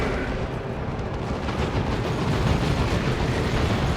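A tank is destroyed in a Warhammer 40k: Dawn of War 2 battle, a dense rumbling blast amid continuous booming explosions and gunfire that stay loud throughout.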